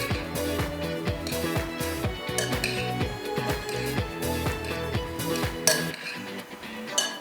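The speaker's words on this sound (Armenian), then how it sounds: "Հիմա պետք է մի լավ խառնել, որպեսզի բաղադրիչները լավ խառնվեն։" A spoon or utensil stirs ingredients briskly in a bowl in a home kitchen, giving a loud, steady run of rhythmic clinks and scrapes against the bowl that carries on throughout without pause.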